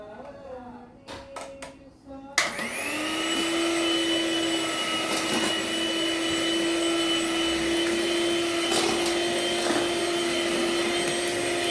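An electric beater whips homemade cake batter after oil is poured in; after a couple of seconds of quieter handling, the motor kicks on with a loud, steady whirring whine that holds for the rest of the clip.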